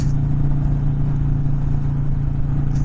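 Harley-Davidson Sportster 1250 conversion engine pulling steadily at speed, a continuous low throbbing drone with wind rush, close and loud, without speech.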